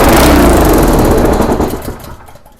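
A Honda GX200 small engine fires loudly up close, runs roughly for about a second and a half, then sputters and dies away into quiet.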